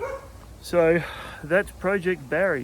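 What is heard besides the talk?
dog barking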